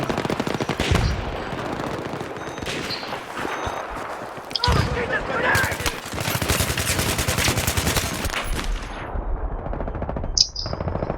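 Rapid bursts of automatic gunfire and single shots in a Battlefield 3 multiplayer match, loud and near, nearly continuous over several seconds with faint chirps and a brief voice mixed in.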